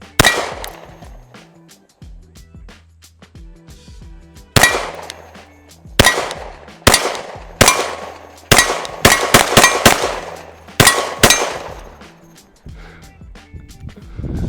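Gunshots fired at a budget Amazon optic whose glass is already busted: a series of sharp, loud cracks, some single and some in quick clusters of two or three, each with a short ringing tail, close to the shooter.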